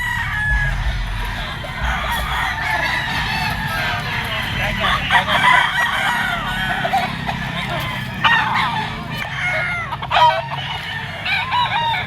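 Roosters crow repeatedly at a busy gamefowl market in Grotto, mixed with clucking and scattered background voices over a steady crowd hum.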